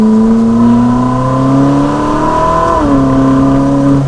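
Ferrari 458 Spider V8 supercar engine heard from the cabin while driving, a loud sustained rising drone that climbs in pitch, dips briefly at a gear change and keeps pulling strongly.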